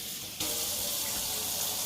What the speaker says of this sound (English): We can just add a little water